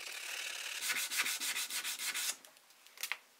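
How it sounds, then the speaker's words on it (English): Steel strike plates are rubbed with 220 grit sandpaper in a steady run of quick, rasping back-and-forth strokes, then a pause and a final short burst, close and fairly quiet. "I sanded the strike plates first with 220 grit to clean them up"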